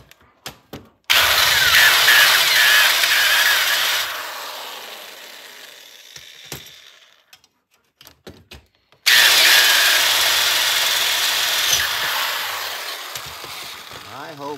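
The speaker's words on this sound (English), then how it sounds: "how I drill them out, I just kind of do one side at a time" A power drill bores out a Duke #1 1/2 coilspring trap in two loud sustained bursts, each whining steadily for several seconds, separated by a quieter stretch with a few clicks and knocks.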